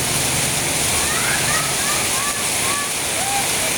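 Steady, loud rush of floodwater overflowing a bridge, a continuous broad roar with faint splashing.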